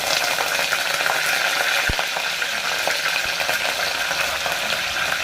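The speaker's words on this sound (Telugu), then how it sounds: "ఆయిల్ వేడైంది ఇప్పుడు కొంచెం జీలకర్ర వేసుకుంటున్నాను ఇప్పుడు ఇందులోకి పచ్చిమిర్చి కరివేపాకు" Cumin seeds, green chilies and curry leaves frying in hot oil for a prawn curry, a loud continuous sizzle with crackles and occasional stirring knocks, close and without talk.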